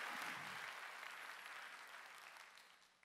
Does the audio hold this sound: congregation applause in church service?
yes